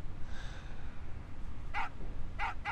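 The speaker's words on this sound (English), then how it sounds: "Yeah, bark." A dog barks in the Final Fantasy 8 video game, giving three short, sharp barks near the end over a low rumbling game background.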